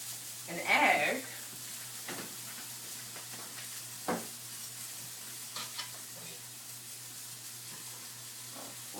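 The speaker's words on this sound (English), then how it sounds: "we're just going to fry our tortillas like normal" Tortillas frying in a pan for enchiladas give a continuous soft sizzle and hiss, with a brief louder crackle near the start and a person talking quietly over it.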